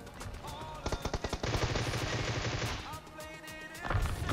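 Gunfire in the mobile battle royale game PUBG Mobile: rapid automatic bursts, a run of sharp shots followed by sustained firing, with someone talking over the shooting.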